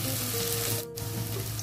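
Spring onion whites sizzling and frying in a pan during vermicelli pasta preparation, a steady close hiss with a brief dip partway through, no talking.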